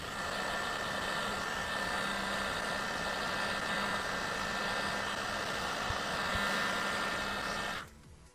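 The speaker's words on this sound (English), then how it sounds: "I'm going to take a heat gun right here on this chip by the antennas" A heat gun aimed at a chip beside the antennas on a Jeep Wrangler JK radio circuit board gives off a steady, even blowing drone that runs unbroken and then cuts off abruptly at the end.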